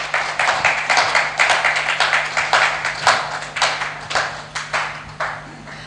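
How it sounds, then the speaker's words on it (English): Audience clapping at a fireside chat during a film festival event, a sustained crowd applause with sharp overlapping claps and steady rhythmic pulses, fairly close and loud throughout. "Can you guys clap for that"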